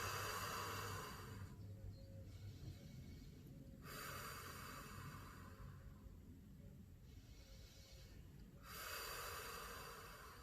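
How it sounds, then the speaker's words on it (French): A person breathes deeply in and out during a home workout, making slow audible inhales and exhales in a repeating cycle, close and fairly soft. "C'est-à-dire j'inspire, j'expire."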